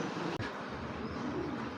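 Two pigeons of a racing or cross-bred type coo softly and continuously in a low, rolling murmur, close by, with a brief dropout early on and no talking.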